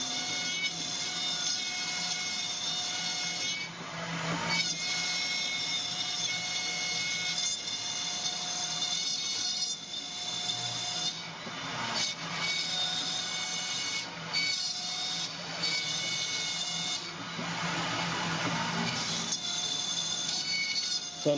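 A 7-axis CNC mill cuts an aluminium extrusion with a steady, moderately loud machining whine and tonal hum, broken by recurring harsher cutting bursts as the part turns.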